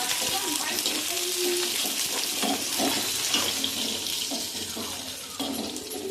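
Chopped green chillies sizzling and crackling in hot oil in a pan, a steady broad hiss with small pops running throughout, with faint background voices.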